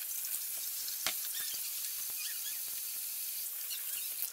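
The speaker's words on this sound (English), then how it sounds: "Gonna wash my hands." Tap water runs steadily into a kitchen sink while hands are washed before making dinner, a constant close hiss with small splashes and clicks throughout.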